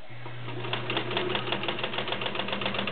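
A Kenmore Model 1601 sewing machine runs steadily on straight stitch, its motor humming under a fast, regular ticking click that repeats through the whole stretch at close range.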